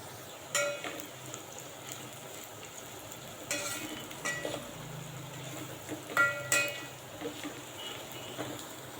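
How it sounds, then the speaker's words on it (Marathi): Two packets of soya chunks fry in oil for masala rice, giving a faint, steady sizzle broken by occasional stirring clicks and scrapes. "इथे मी दोन पाकिट सोयाबडी घेतले ते आपण तेलामध्ये भाजून घ्यायचं"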